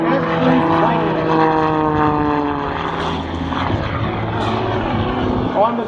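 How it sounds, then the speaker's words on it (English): Aerobatic propeller airplane tumbling nose over tail at an air show, its loud engine droning and shifting in pitch through the maneuver, with an announcer talking over it. "Tumbling the airplane, nose over tail."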